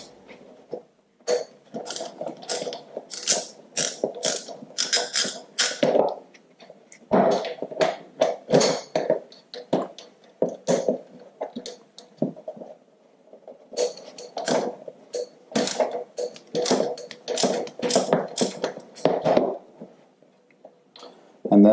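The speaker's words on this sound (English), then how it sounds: "Next up is to loosen the upper pinch bolts on the fork leg." Ratchet working the upper pinch bolts on an Africa Twin fork leg, giving rapid clicking bursts in repeated runs with short pauses between them, close and clear with no talk.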